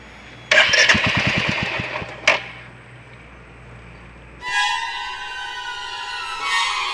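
A motorcycle engine is started and quickly dies, with a short burst of rhythmic cranking and sputtering, a sharp final cough, then quiet before a faint tonal hum rises.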